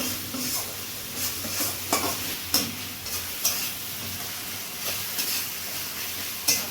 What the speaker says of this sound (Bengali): এবার এটা নুন দিয়ে হেলুনে দিয়ে ভালো করে কষে নিতে হচ্ছে বা ভেজে নিতে হচ্ছে হালকা করে